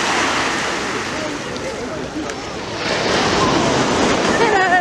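Surf breaks continuously on a beach in Brighton, with strong wind buffeting the microphone in a loud, steady roar that swells slightly toward the end.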